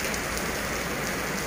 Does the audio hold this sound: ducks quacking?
no